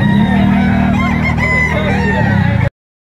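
A white Kelso gamefowl rooster crowing close and loud, one long drawn-out crow that cuts off abruptly, no talking over it.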